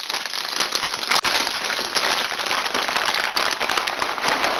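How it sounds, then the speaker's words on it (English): A bag of chips crinkles and crackles loudly and continuously, close up, with dense rustling that covers the whole stretch, during a Call of Duty session. "The loudest bag of chips"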